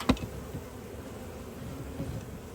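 A low, steady buzz of honey bees swirls around an open hive, with a sharp knock at the start and soft bumps beneath.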